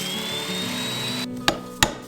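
Chisel strikes into a wooden post while cutting a mortise for a hardware-free timber woodshed, two sharp knocks late after a steady background hum.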